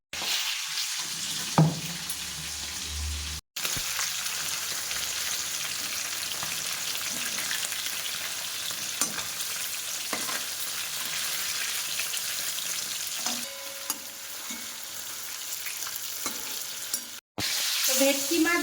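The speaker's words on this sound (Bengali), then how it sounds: "বেশি ভাজবো না ভেটকি মাছ বেশি ভাজলে না ভেটকি মাছের তেলটা বেরিয়ে যায় তো যাই হোক হালকা করে ভাজলাম" Bhetki fish pieces frying lightly in oil, a steady close sizzle crackling throughout with occasional stirring clinks and brief gaps, no voices.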